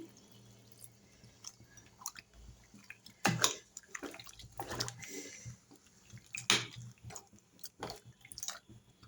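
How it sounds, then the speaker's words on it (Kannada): Water added to thick sambar curry in a pot, heard as soft intermittent splashes and drips with a few louder pouring bursts, quiet and close with no talking. "ಇದಕ್ಕೆ ಇನ್ನು ಸ್ವಲ್ಪ ನೀರು ಸೇರಿಸ್ತೀನಿ ನೋಡಿ"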